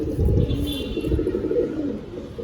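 Old Rampuri bloodline pigeon cooing close by, soft repeated low throaty coos over a faint background hum.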